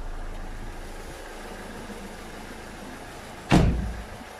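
A Renault Megane 1.5 dCi diesel engine idling with a steady, even low rumble, broken by a single sharp thump near the end.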